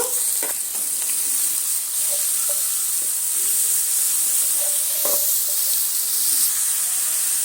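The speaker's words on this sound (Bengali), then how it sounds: "বাঁধাকপিটা দিয়ে এইভাবে নেড়ে চেড়ে একদম হালকা আঁচে দিয়ে একটু সময় নিয়ে এইভাবে নেড়ে চেড়ে ভেজে নিতে হবে" Boiled cabbage is stirred and fried in a pan over low heat, giving a steady sizzle and hiss with occasional soft scrapes of the spatula, close and continuous with no talking.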